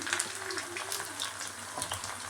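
Chopped onion and green chili frying in hot oil, a close, steady sizzle with crackling pops and a faint stir, no talking.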